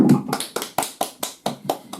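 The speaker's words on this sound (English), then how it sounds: "how about a big round of applause for our experts here tonight?" Applause for the experts at the close of an evening animal and bear control program: a small group's slow, evenly spaced claps, about nine distinct smacks in two seconds, close and moderately loud.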